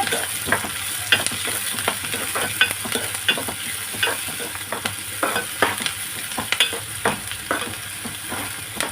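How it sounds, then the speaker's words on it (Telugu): Onions, green chillies and curry leaves frying in oil for a spicy mutton masala curry, a close steady sizzle with frequent rhythmic spatula scrapes and taps against the pan, no voices. "2 పచ్చిమిర్చి, కొంచెం కరివేపాకు, ఇది కూడా ఆయిల్లో వేసేస్తున్నాను."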